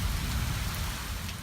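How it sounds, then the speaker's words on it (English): Steady Florida rain falls in a dense, continuous patter, a broad even wash of drops striking surfaces nearby with no voices over it. "having glorious Florida rain"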